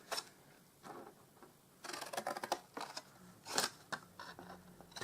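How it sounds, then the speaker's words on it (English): Scissors snipping along score lines in card, a series of crisp close cuts in irregular bursts with short pauses between them, quiet and without speech. "we're just going to cut up each of these score lines"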